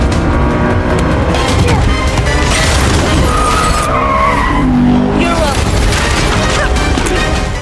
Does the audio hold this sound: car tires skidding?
yes